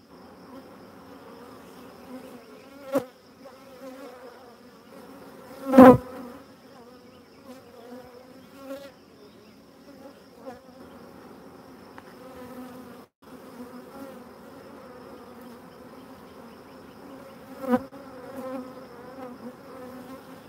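Honeybees buzzing around an open hive while frames are handled, a steady close swarm drone with occasional louder bees passing near, plus a few knocks and thuds.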